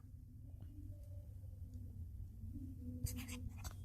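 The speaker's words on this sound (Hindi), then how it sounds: "तो चलो मैं इसे एक बार दोबारा से लिखता हूं।" A pen scratches out a chemical equation by hand during a redox chemistry lesson, faint intermittent strokes over a low room rumble, with a brief burst of sharper scribbling near the end.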